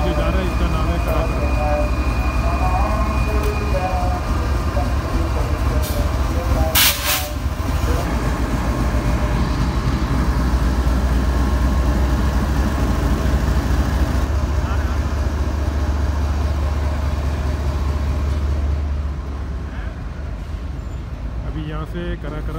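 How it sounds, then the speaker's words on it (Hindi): A train pulls out of Lahore railway station, a continuous loud rumble and clatter of wagons rolling past up close, with a brief horn-like burst midway and someone talking over it. "ये रेलगाड़ी अभी जो जा रहा है इसका नाम है खराब"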